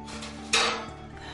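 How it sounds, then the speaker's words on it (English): A metal tray of granola is pulled from the oven, making a single sharp clatter of metal on metal midway through that fades quickly against a quiet kitchen hum. "Time to get the granola out of the oven."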